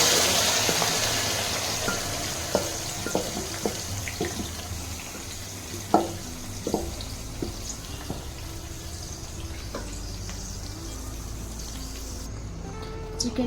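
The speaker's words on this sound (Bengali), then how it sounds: "কারি পাতা দিয়ে এটাকে আমি ভালো করে একটু নেড়ে নেব।" Curry leaves frying in oil for a Hyderabad-style dahi chicken, a continuous hissing sizzle with scattered clicks and scrapes of a stirring spoon against the pan.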